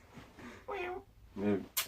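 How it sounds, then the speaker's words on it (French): A domestic cat meows twice, each call clear and close, with quiet rustling between and a sharp high noise at the end. "On a un problème avec le chat, comme d'habitude."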